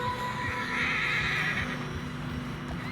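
A horse in snow in Red Dead Redemption 2 whinnies over a steady rumble of hooves and wind, with a brief high neigh rising in the middle.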